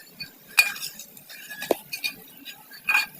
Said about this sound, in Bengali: নাড়াচাড়া করতেছো।